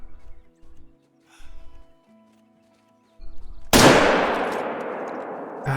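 A hunting rifle fires a single loud, sharp crack at a Roosevelt elk in Call of the Wild, ringing out and decaying over a couple of seconds after quiet ambient sounds.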